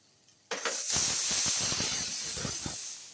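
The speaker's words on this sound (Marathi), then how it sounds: "आपलं एक गॅसचे कुकरची एक शिट्टी झाली आहे आपण त्याच्यात वाफ काढून घेणार आहे" Steam bursts out of a gas-stove pressure cooker after one whistle with a sudden loud hiss that holds steady for a few seconds, sputtering slightly, then begins to fade.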